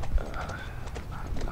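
Horse hooves clop steadily on the ground in the video game The Last of Us, soft and close, running under quiet ambient sound.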